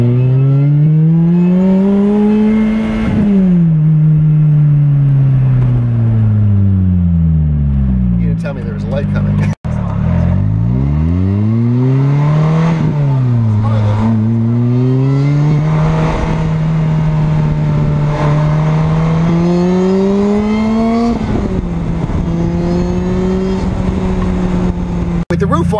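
Lotus Exige S engine revving up through the gears with a loud exhaust note, several rising and falling acceleration sweeps heard from inside the car, with someone talking over parts of it.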